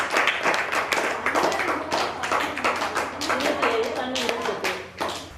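Children clapping their hands on request, several quick loose claps at close range with voices talking over them.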